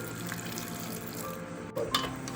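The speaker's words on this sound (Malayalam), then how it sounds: "ഇതിലേക്ക് ഒരു ഗ്ലാസ് വെള്ളം ഒഴിച്ചു കൊടുക്കാം" A glass of water is poured into a jackfruit seed and cucumber curry in a pressure cooker, making a faint, steady trickle with a brief clink near the end and no voices.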